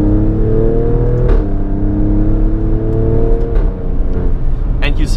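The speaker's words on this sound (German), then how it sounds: "I don't know how Alfa Romeo and of course also in work together with Ferrari have managed to get that sound street legal" A 510 hp Alfa Romeo Stelvio Quadrifoglio engine revs loudly and steadily, its rising harmonic drone heard from inside the car with brief shift breaks, while faint talk sits underneath.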